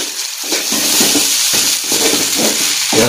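Nasi goreng, hotel-style fried rice, sizzles steadily in a hot pan while a spatula scrapes and tosses it in a regular rhythm, close and fairly loud.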